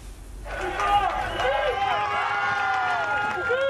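A crowd on the pontoon at Les Sables d'Olonne, a dense murmur of many overlapping voices rising abruptly after half a second and holding steady and fairly loud to the end.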